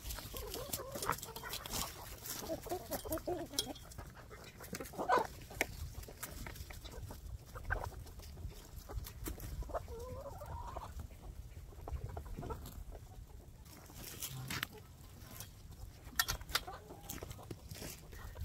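A flock of backyard chickens clucks and squawks excitedly at feeding time in winter, close and busy, with pattering feed and footsteps and occasional brief talk.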